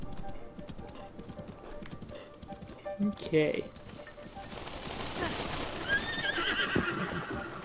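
A horse in a video game neighs once mid-clip over a steady clip-clop of hooves, with faint gunfire-like bursts and someone briefly speaking over the game sounds.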